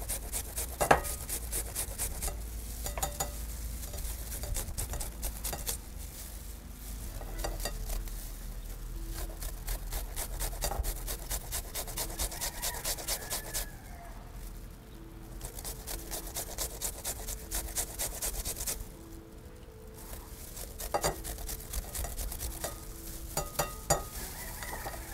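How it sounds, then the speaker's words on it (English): A potato with its skin on is grated by hand, giving a long run of steady, close scraping strokes with brief pauses and occasional clinks, no speech. "I'll go ahead and now grate my potato"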